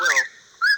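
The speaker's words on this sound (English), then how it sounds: "Whippoorwill." A whippoorwill gives a brief whistled call, close and clear, with a rising, sliding first note, a pause, and a sharp second note.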